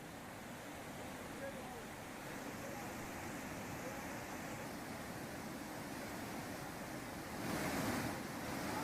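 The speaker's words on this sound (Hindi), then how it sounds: "आप देख सकते हैं, आवाज से आप अंदाजा लगा सकते हैं कि पानी का बहाव कितना तेज होगा।" Swollen Ganges at Rishikesh in flood after torrential rain, a steady, loud broadband roar of rushing water with wind buffeting the microphone, rising briefly into a louder surge near the end.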